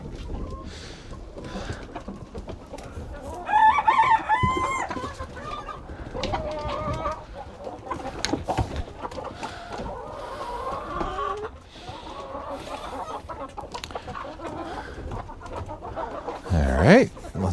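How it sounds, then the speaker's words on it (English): Chickens on a farm during morning chores cluck and squawk continuously at close range, with a rooster crowing near the end, while a person talks intermittently over the flock. "All right, chickens."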